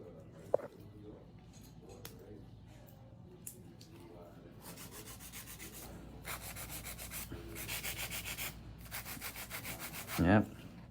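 A nail file rubbing over gel nails makes raspy sanding strokes, sparse at first and then fast and rhythmic, with a person talking at the start.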